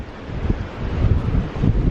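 Strong wind on a beach, blowing sand across it, roars and buffets the microphone steadily, a low rumbling gusty rush with no voices.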